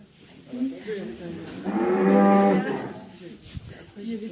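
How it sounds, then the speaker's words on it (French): A cow lows once, close and loud, in a long, full moo that swells and fades, with quieter rustling and shuffling before and after. "c'est adorable ce vache"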